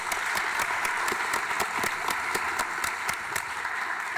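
An audience at a neuroscience evening event breaks into sustained applause, a dense, even wash of many hands clapping from mid-distance that holds steady throughout with no speech over it.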